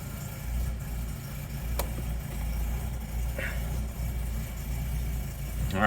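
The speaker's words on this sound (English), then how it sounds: "that engine sound doesn't really sound very good" A BMW E30 Touring with a rough-sounding old engine idles nearby, a steady low rumble that holds evenly throughout, with a couple of faint clicks and no talking.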